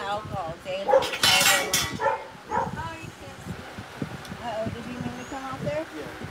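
Dogs bark and yip near a 40ft fifth-wheel toy hauler RV, a few sharp barks mixed with whimpers under lively overlapping talk from several people.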